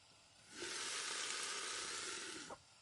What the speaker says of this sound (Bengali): এবার মশলাটাকে ভালো করে আরেকবার কষিয়ে নিচ্ছি যতক্ষণ না মশলাটা থেকে তেল ছেড়ে আসছে